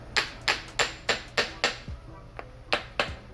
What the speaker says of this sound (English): just give it a little tap